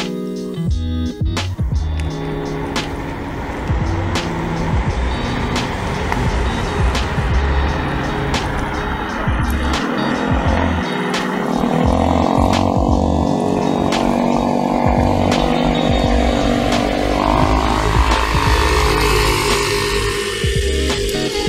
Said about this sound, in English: This is where it struggles to get up to the maximum speed because it's just one motor that's doing all the work.